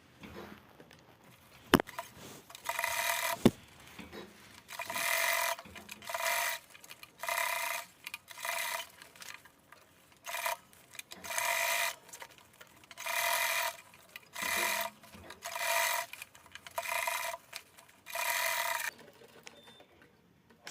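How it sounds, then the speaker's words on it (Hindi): Sewing machine stitching a seam around the edge of a homemade fabric handbag with a zip, running in repeated short bursts with brief pauses between, steady and close, no talking. "इसके चारों तरफ एक सिलाई और लगा देंगे।"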